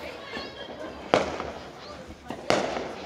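Fireworks from a 100-shot box go off outdoors, two sharp bursts about a second apart over a background of chatter and crowd noise, moderately distant.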